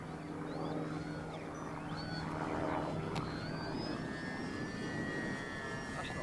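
A fairly heavy radio-controlled model airplane built from a kit flies overhead with a steady, buzzing propeller drone and a thin whining engine pitch that rises and shifts as it passes.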